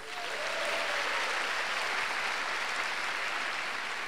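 An audience at the White House Summit on Asian Americans and Pacific Islanders gives sustained, even applause for a native Hawaiian singer and a taiko drum group, a steady wash of clapping throughout.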